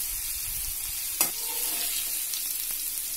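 Young jackfruit and potato pieces fry in oil in a pan, a steady soft sizzle with a single sharp clink partway through and faint stirring sounds.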